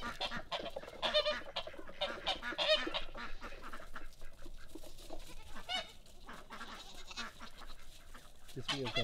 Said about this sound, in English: the ducks are happy in the morning.